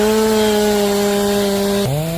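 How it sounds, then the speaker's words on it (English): A chainsaw cuts through wood with a loud, sustained engine whine and rasping bite, its pitch dropping abruptly near the end as the load changes. "No piece of wood is strong enough to withstand the devastating power of this chainsaw."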